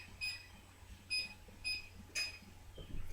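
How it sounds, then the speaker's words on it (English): A kitchen timer is being set while grape leaves cook, giving four short, faint electronic beeps spaced roughly a second apart over a quiet room hum. "I'm going to reset my timer here"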